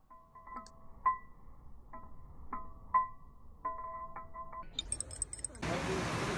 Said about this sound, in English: Stir it up, dissolve the sugar.